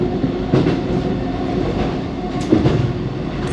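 A Melbourne suburban train runs along the Lilydale line, with a steady close rumble, rhythmic wheel clatter and brief squeal-like bursts.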